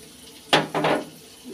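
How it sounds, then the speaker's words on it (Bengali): Water poured into a cooking pan holding ginger, cumin and turmeric, giving two short close splashes with a sizzling gush, the second lasting a little longer. "একটু জল দিয়ে দেব"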